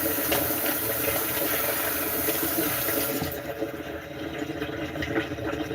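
Hot water gushes steadily from a kitchen tap into a sink while utensils are being washed, a loud continuous rush whose tone shifts partway through as the flow changes.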